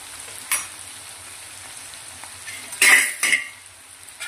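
Bitter gourd pieces fry with chili powder and turmeric in a pan, giving a soft, steady sizzle broken by a few sharp scrapes and clinks of stirring.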